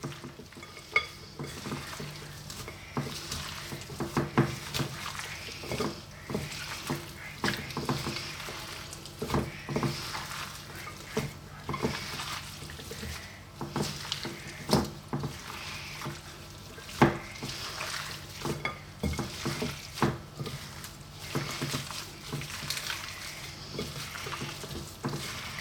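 Lamb is mixed by gloved hand with tomato, onion and a garlic-ginger paste, giving quiet wet squelching and patting in irregular bursts, with occasional sharper clicks.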